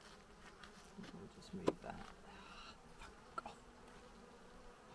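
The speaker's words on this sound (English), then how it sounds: "This is the problem because you've got the wasps coming in this time of year." Bees and wasps buzzing around an open beehive in August, a steady close insect drone under a man's brief quiet speech, with a couple of sharp knocks from handling the hive frames.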